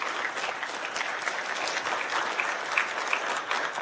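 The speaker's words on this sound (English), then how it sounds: "let's give them a round of applause and thank them for their service" An audience claps steadily for a committee at a transit agency board meeting, a dense, continuous round of applause at moderate level with no talking over it.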